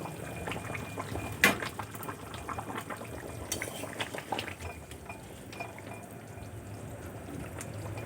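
Egg and cauliflower curry bubbles in a pot as a spoon stirs through it, with a steady simmer, a sharp clank of metal on the pot and several softer scrapes.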